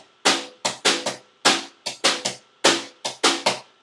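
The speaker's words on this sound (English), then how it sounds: "So I'll play 3 in the right hand," Two hands play a 3 over 2 polyrhythm on a drum, sharp, close strikes falling in uneven interlocking groups that repeat three times in a steady cycle.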